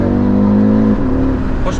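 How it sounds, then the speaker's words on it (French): An Audi RS3 engine rumbles steadily at close range as the driver accelerates, its low purr easing slightly partway through, with people talking over it. "C'est vrai que quand t'accélères, je trouve qu'il ronronne quand même."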